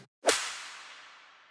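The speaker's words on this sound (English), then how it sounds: "And together, they sound like a whip with a clap." Layered whip and clap effects for an electronic dance track strike together as one snappy crack, followed by a long, bright, spacey reverb decay, heard on its own.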